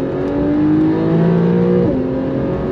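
A Porsche 911 Carrera S launching hard under launch control, its engine loud and close with a rising rev tone that climbs steadily, then a brief dip as it shifts gear and pulls on.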